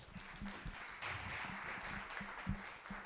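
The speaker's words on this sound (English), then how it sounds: "let's give them another round of applause" Audience applause at a luncheon event, a moderate, steady patter of clapping from a seated crowd lasting a few seconds, fairly distant with some low room noise beneath.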